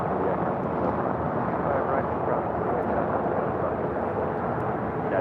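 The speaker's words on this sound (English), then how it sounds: "This is United Airlines Flight 32 taking off to Tokyo Narita on a 787-10" A United Airlines Boeing 787-10 Dreamliner takes off at LAX bound for Tokyo Narita, its engines a loud, steady broadband roar held without pause.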